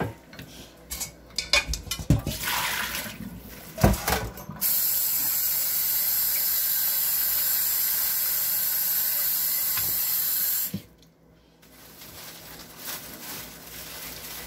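Lettuce being rinsed under a kitchen faucet: a steady, loud rush of running water for several seconds, framed by clattering dishes and utensils before and after.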